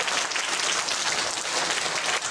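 A Korean audience at the Incheon Social Welfare Council's 30th anniversary talk concert gives a steady, dense round of applause, with continuous clapping from start to finish and no talk over it.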